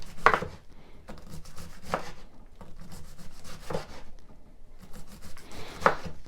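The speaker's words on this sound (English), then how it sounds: "slice it yet again real thin" A knife slices cabbage thin on a wooden cutting board for sauerkraut, making a few sharp chopping strikes with softer scraping and rubbing strokes between them, close and moderately loud, with no voices.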